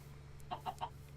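Three quick clucks from chickens in Minecraft come evenly spaced over a quiet low game hum, close and soft, with no speech.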